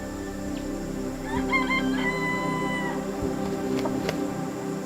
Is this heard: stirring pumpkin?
no